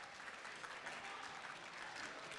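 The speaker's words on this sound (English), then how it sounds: "round of applause for the senator from Kansas" Applause for the senator from Kansas during a civics simulation activity at a symposium, a continuous wash of clapping from a gathered audience, fairly faint and distant with no speech over it.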